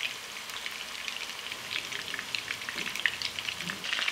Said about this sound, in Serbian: I ćuftice sad ovako pržimo sa obe strane po 3-4 minuta.